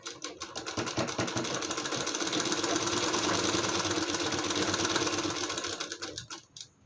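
A sewing machine stitches a folded palazzo hem in one steady, fast, rattling run lasting several seconds, close and alone, slowing and stopping at the end.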